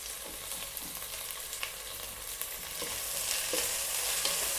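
Mint and coriander leaves stirred into biryani masala frying in a pan, giving a continuous close sizzle with soft scraping stir strokes that grow a little louder toward the end, no voices.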